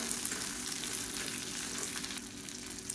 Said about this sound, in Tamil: இப்போ வெங்காயம் பூண்டு எல்லாம் நல்லா வதங்கிடுச்சு